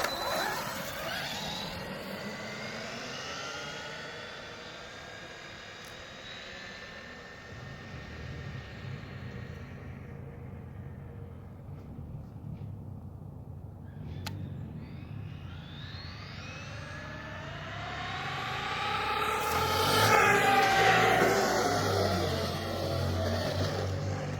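A Traxxas Maxx RC truck running on a 4S battery with mega take-off wheels whines past, its high motor pitch falling as it recedes, dropping to a distant drone, then rising loudly again as it returns close by.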